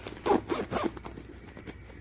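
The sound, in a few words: zipper on cooler backpack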